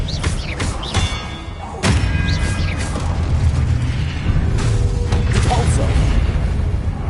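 Spellcasting in the Hogwarts video game, with a sharp thump and whooshing burst of a disarming spell amid heavy mechanical rumbles and clanks, loud and continuous, while a voice speaks over it.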